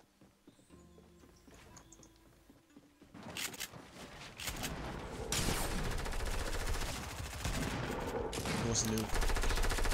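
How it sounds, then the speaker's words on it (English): Sniper rifle shots in a Fortnite duos match: a quiet start, then bursts of sharp gunfire that grow louder and denser, with a player's voice briefly heard. "Someone else sniping."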